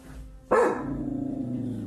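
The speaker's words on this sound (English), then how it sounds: "footage begins abruptly with her dog barking into the darkness" A dog barks once at night, a single loud, close bark that breaks a quiet background, followed by a low, sustained growl that holds to the end.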